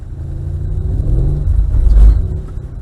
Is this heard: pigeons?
no